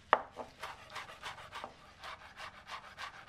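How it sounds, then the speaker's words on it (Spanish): Fresh parsley being chopped with a knife on a board, a steady series of about a dozen soft rhythmic blade strokes, close and moderately quiet, with no talking. "Picamos abundante perejil fresco"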